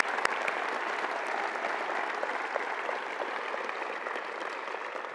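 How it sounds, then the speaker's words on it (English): Steady, dense applause fills a law school commencement hall, a large audience clapping continuously and evenly at close range with no voices standing out. "how about another round of applause for the Armstrongs?"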